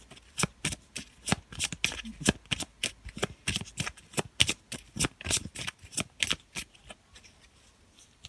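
Tarot cards shuffled by hand in a rapid, even run of crisp riffling slaps, close and clear, repeating steadily for several seconds before easing off.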